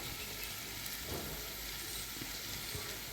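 Paneer frying in a pan while being stirred, giving a steady, even sizzle that holds without break, close by and fairly quiet, with no talking.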